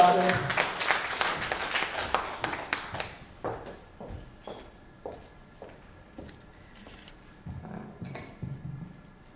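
Clapping from the audience at a Korean political news outlet's 22nd anniversary ceremony as a lawmaker is invited to speak: brisk applause for a few seconds, then tapering into sparse, separate claps.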